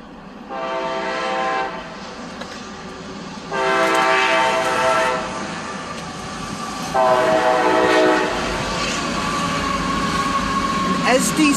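A passing CSX freight train led by an SD70ACE locomotive sounds three long, loud horn blasts over a steady rumble of wheels and engine.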